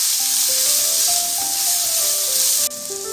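Mutton with cumin powder, coriander powder and salt sizzles steadily in a hot pan while being stirred, a constant close hiss with a few faint tonal whines overhead.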